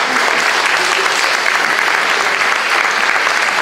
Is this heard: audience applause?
yes